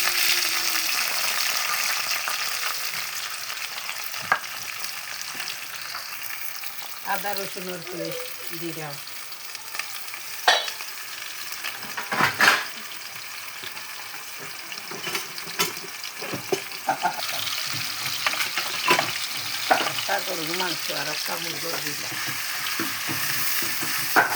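Cinnamon, cardamom and bay leaf fry in hot oil with onion in a pan, a continuous loud sizzle with occasional clinks and scrapes of stirring.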